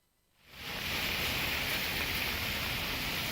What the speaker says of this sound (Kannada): ಮಂಗಳೂರು ನಗರಗಳಲ್ಲಿ ಇವತ್ತು ಬೆಳಿಗ್ಗೆಯಿಂದಲೇ ನಿತ್ಯ ನಿರಂತರವಾಗಿ ಮಳೆ ಸುರಿತಾ ಇತ್ತು